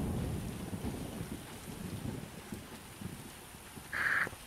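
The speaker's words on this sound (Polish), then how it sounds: "Jest burza w sumie" Thunderstorm with rain in the video game The Witcher, a low rumbling roll of thunder under a constant hiss of rain, fading slightly, then a brief bright tone near the end.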